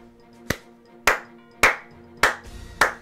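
Five slow, evenly spaced hand claps ring out loud and close during a Geopolitical Simulator 4 game session, each a sharp smack with a short decay over a faint, steady tonal hum.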